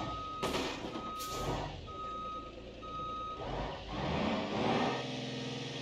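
A truck in BeamNG.drive shifting into reverse, with a steady series of loud electronic reversing beeps over engine rumble and the hiss of an air brake.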